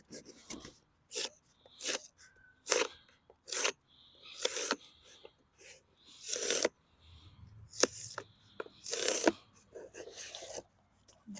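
A Joker Trampero bushcraft knife slices through cardboard in a run of short, sharp rasping cuts and tearing strokes, close and fairly loud, with brief pauses between passes.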